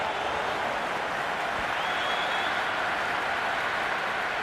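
A packed cricket stadium crowd at an IPL match between CSK and MI roars and applauds in a dense, continuous wall of noise that stays loud and even throughout.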